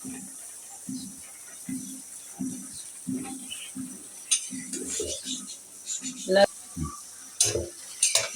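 Greens are sautéed and stirred in a pan, with soft sizzling and intermittent scraping and clattering of a utensil against the pan, growing busier and louder toward the end, while a voice talks in the early part.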